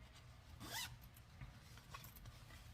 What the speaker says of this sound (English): Nice little canvas bag. Nice zipper. Nylon zipper.